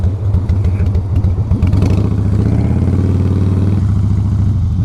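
A motorcycle rides through downtown Franklin, its engine loud and close with a steady mid-range rumble and brief revs throughout.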